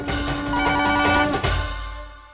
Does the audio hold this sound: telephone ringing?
yes